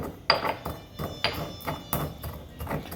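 Toasted peppercorns cracked coarsely, with a series of sharp, hard knocks about once every half second alongside crunchy crushing, close and moderately loud.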